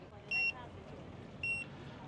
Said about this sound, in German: hier mein Ding piepst, Cappuccino ist fertig